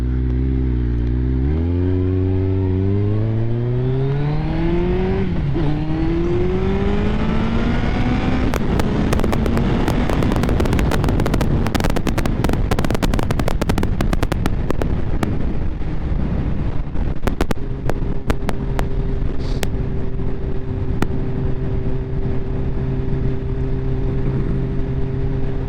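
A Kawasaki ZX14 motorcycle engine while riding, revving up through the gears with rising and falling pitch, heavy wind buffeting and crackling in the middle, then settling into a steady drone at cruising speed, loud and close.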